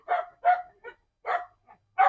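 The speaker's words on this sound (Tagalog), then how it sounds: "Jolo, lapit ka sa aso mo muna, Jolo, para hindi magingay" A dog barks nearby in a garden with bougainvillea, giving a quick run of sharp, loud yips and barks in uneven bursts with short gaps between them.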